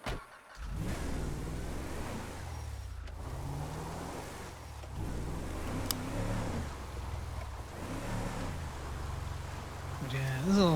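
A truck engine drones steadily as the vehicle climbs a mountain road toward the peak, a continuous mid-pitched rumble with slight revving swells, while people talk over it.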